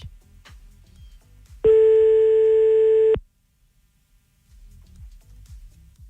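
A telephone line tone sounds during a radio call-in as the station dials a listener: one loud, steady electronic tone lasting about a second and a half, then quiet, with faint background sounds before and after.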